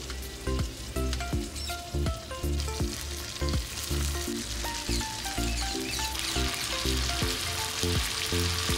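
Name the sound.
bhetki fish pieces frying in mustard oil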